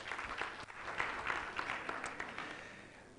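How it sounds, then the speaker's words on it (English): An audience applauds at a World Teachers Day 2023 celebration, a dense, steady wash of clapping that holds for about three seconds and gradually thins toward the end. "Big round of applause, please."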